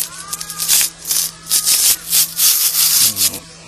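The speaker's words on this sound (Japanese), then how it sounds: "ちょっと削って穴の奥どうなってるかも見てみなきゃいけないですね" Someone scrapes at a hole, likely in a banana plant, to see inside it: close, rough rubbing strokes come in an uneven rhythm of short bursts, with a low hum underneath.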